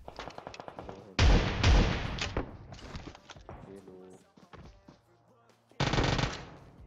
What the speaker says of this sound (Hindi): पहले मैं इसे दो शॉर्ट गन पेलता हूँ